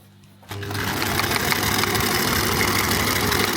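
A sewing machine stitches the seams of a pair of pants. It starts abruptly after a brief quiet moment, then runs as a steady, loud, fast mechanical whir and rattle that continues alone to the end.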